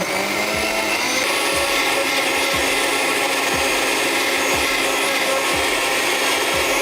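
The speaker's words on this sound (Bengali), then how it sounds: "এটাকে হচ্ছে একদম ভালো করে ফাইন করে হচ্ছে ব্লেন্ড করে নিতে হবে" A blender runs steadily on drink ingredients and half a cup of water for a piña colada, giving a loud, continuous whirring roar with a soft thump about once per second throughout.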